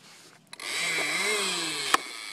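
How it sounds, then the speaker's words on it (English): A toy lawn mower's engine starts up. A sharp click leads into a steady buzzing drone that rises slightly in pitch, then ends with another click. "Start the engine with this, Raph."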